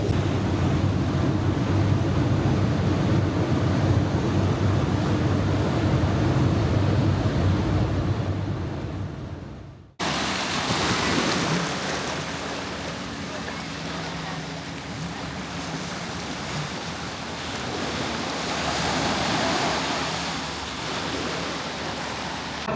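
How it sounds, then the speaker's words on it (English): Boat crossing open sea toward Phuket, a loud continuous engine roar mixed with rushing waves and wind buffeting, with an abrupt cut partway through and no talking. "On the way to Phuket on a boat. It's loud and it's rocking a lot."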